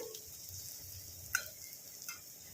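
Onions fry in a pan with a steady, soft sizzle that holds throughout, broken by one or two brief clicks and no talking.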